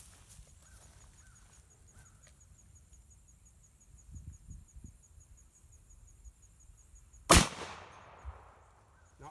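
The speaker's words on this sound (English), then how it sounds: "We're going to shoot a 535 grain bullet at low velocity out of the 5110 and see how much penetration we get." An 1886 Winchester big bore lever action rifle fires a 535 grain bullet at low velocity, one sharp loud crack late on with a brief echoing tail after quiet handling sounds.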